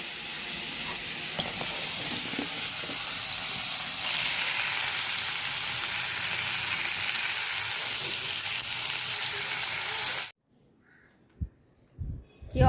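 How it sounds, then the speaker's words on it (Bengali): Papad frying in hot oil gives a loud, continuous hissing sizzle for about ten seconds, then cuts off, leaving a quiet yard where crows caw a few times. "এদিকে পাঁপড় ভাজা করলাম"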